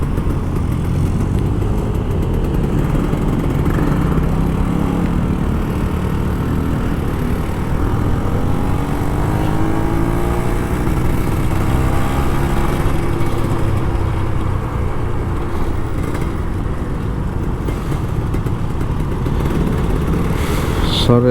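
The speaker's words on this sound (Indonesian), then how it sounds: "Sore-sore gini ngegas motor itu enak banget" A Kawasaki Ninja RR two-stroke motorcycle engine runs steadily and loud for a long stretch on an evening ride, revving up and down with a continuous buzzy drone, while someone talks over it.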